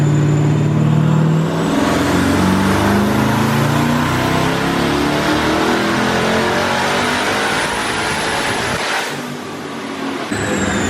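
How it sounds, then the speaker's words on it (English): Twin-turbo Chevrolet Camaro ZL1 on pump gas revving hard through a dyno pull, a loud sustained engine roar climbing in pitch for about nine seconds before easing off near the end. "we're gonna make one more dyno pull before we take it off the dyno"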